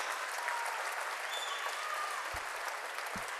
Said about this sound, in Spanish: ¡Aplauso a la banda!